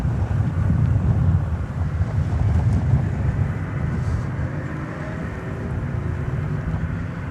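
Strong wind buffeting an outdoor microphone at an airport at night, a steady loud low rumble that roars continuously without letup.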